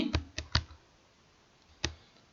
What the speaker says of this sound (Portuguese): eu vou pressionar o Tab do teclado para digitar na célula seguinte